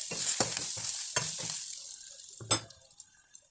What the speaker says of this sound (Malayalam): മുളകും ചേർത്ത് ഒന്നുകൂടെ വഴറ്റുക.